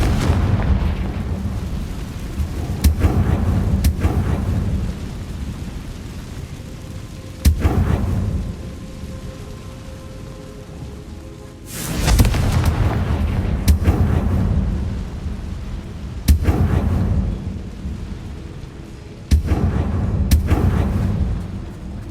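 Fire-spell blasts from the Hogwarts Legacy video game boom in repeated loud bursts, about six sharp explosions spaced a few seconds apart, each trailing off in rumbling decay.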